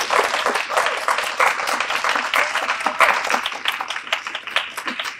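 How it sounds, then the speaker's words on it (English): Indoor university audience applauds a comic creator being introduced, dense steady clapping from a moderate crowd lasting several seconds without a break. "So please give a round of applause for Liana Kangas."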